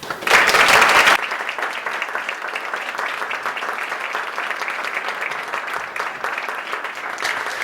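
An audience applauds a welcome for Kevin Tuerff at the Sheen Center in New York City, with a loud burst of clapping followed by steady, slightly softer sustained applause throughout.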